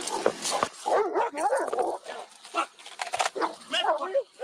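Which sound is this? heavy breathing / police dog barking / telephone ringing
police dog barking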